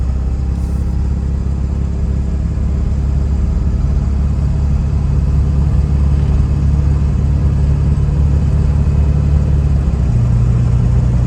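A 2002 Ford Excursion's 7.3L Powerstroke diesel engine rumbles loudly and steadily at a constant idle, with no voices.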